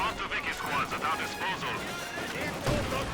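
Grenades and gunfire in the World War II strategy game Company of Heroes 2 crackle and thump through a busy battle din, with a heavier blast near the end and speech running underneath.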